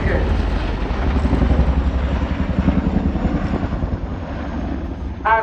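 A Chinook helicopter making a display pass at the RIAT air show gives a loud, rhythmic rotor thump and engine roar throughout, with a public address announcer speaking over it.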